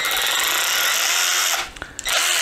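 A Ryobi cordless ratchet wrench with a variable-speed paddle switch runs with a loud, close motor whir, then cuts off and gives a few short bursts and clicks.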